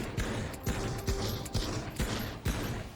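Desert Eagle pistol fired repeatedly in the VR shooter Pavlov, about seven sharp evenly spaced shots roughly half a second apart, each with a brief echoing tail, with no talking over them.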